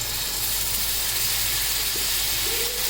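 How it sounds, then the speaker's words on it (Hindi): A steady, loud hiss fills the whole stretch, hot oil sizzling in a pan for a dal tadka, with no talking. "यहाँ पर ऑयल गर्म हो रहा है"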